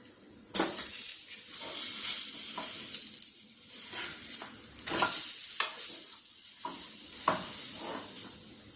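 A ragi ottada, flipped over in a pan, cooks with a close, hissing sizzle that swells sharply at the start and comes and goes in bursts, with a few scraping touches and no talk.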